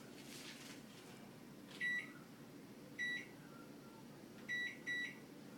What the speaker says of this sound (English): The next action is set microwave timer to 1 minute.